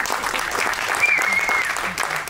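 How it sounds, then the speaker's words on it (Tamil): An audience applauds at a Tamil event for the Veerappan web series, a dense wash of many hands clapping at moderate level across the clip, with some faint voices mixed in. "அதுக்கே தனியாக நீங்கள் அவருக்கு ஒரு கைத்தட்டல் கொடுக்கணும்"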